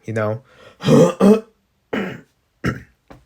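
Several rough throat clearings and short coughs in separate bursts, close and loud, with brief silences between them.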